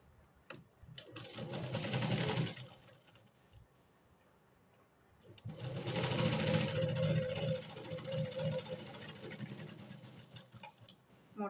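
Sewing machine stitching together blouse fabric pieces, running in two close, loud bursts of rapid mechanical ticking with a quiet pause between them.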